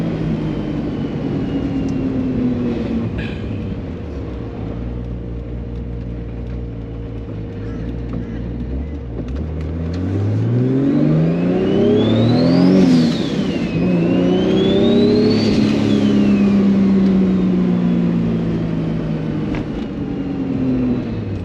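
A car engine fitted with a Precision 7675 dual ball bearing turbo revs up loudly and falls back twice, with rising and falling whine from the turbo, steady and close throughout, with no talking.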